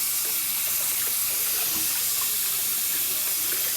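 Tap water runs steadily into a sink while toddlers wash dishes, a loud, continuous close-up hiss and splash that fills the whole stretch without talk.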